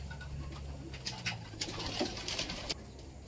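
Domestic pigeons coo softly amid a noisy loft, with a few sharp clicks and rustles breaking through a steady background hiss.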